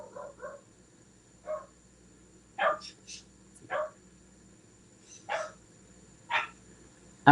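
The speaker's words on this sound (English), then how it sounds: "I hope it keeps out some of the doggy sound." A dog barks repeatedly in the background, short sharp barks at irregular intervals over a faint steady indoor hum, moderately distant and alone without talk.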